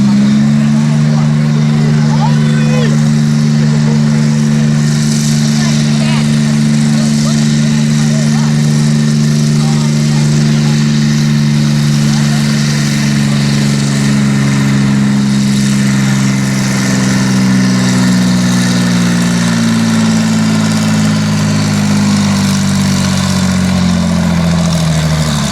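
A John Deere 4010 diesel tractor runs steadily and loudly at a tractor pull, its low engine drone continuous throughout with a slight pitch drop near the end.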